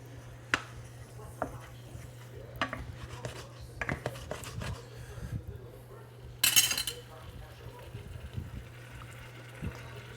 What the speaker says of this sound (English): what you're trying to do is just scrape off the fond